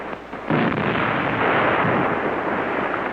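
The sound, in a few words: artillery fire on attacking English tanks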